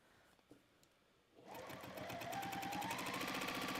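A Juki sewing machine edge stitches fabric, starting after a short quiet pause and then running in a fast, steady mechanical whir with rapid rhythmic needle ticks, close and loud without talk.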